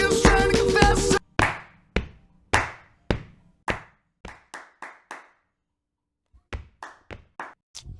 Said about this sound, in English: So what they would have done is the clap by itself, and then you could put the stomp.